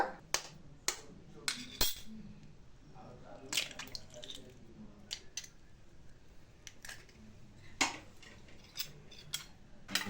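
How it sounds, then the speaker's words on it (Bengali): Kitchen scissors snip green chilies in a series of sharp, close, irregular clicks spread over ten seconds, with quieter handling noises in between. "এবার আমি একটু লঙ্কা ছোট ছোট করে কেচির সাহায্যে কেটে নিচ্ছি"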